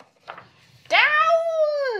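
A cat lets out a long, loud, drawn-out yowl with a rising then falling wail, close up, after a brief faint sound just before it.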